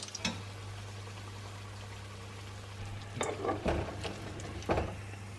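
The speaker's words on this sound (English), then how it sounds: "So we're just going to flip this over carefully. And we're just going to fry this for 2 minutes." A Mughlai paratha with kheema and egg fries in a pan with a soft, steady sizzle over a low hum, broken by a few brief scraping clatters as it is handled.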